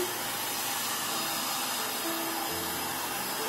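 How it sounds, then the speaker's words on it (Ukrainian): A hair dryer set to its lower of two speeds heats a petal of isolon foam, giving a steady, fairly close airy whoosh and hiss with a faint hum throughout, and nobody speaking. "підношу до фену"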